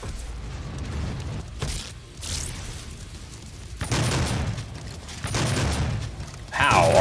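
Gunfire in DOOM (2016) aimed at a Hell Knight's head, heavy booming blasts in irregular bursts amid game noise, with a voice talking at times.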